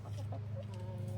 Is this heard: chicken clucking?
yes